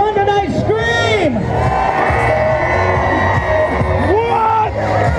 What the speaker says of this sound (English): If you guys are having fun tonight, scream!